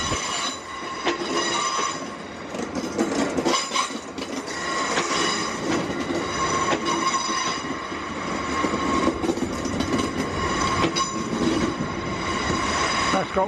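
A shunting train moves through a West Midlands station: steady rumbling and clattering with repeated metallic wheel squeals and clicks, fairly close and continuous throughout.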